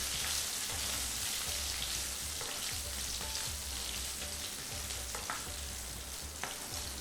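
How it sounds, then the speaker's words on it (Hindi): Potatoes fry in oil in a pan for masala aloo, giving a steady, close sizzle with occasional stirring scrapes and pops throughout, with no talking over it. "अब यहाँ पे आलू बढ़िया भूनेंगे"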